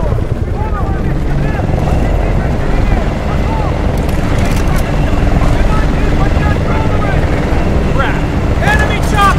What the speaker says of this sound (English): Enemy choppers! We got enemy repelling in!